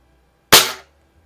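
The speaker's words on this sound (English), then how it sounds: "I'm not shooting, just shooting into my pellet box right now." A single sharp crack from an Anschutz model 335 break-barrel air rifle fired into a pellet box, loud and close, decaying quickly into silence.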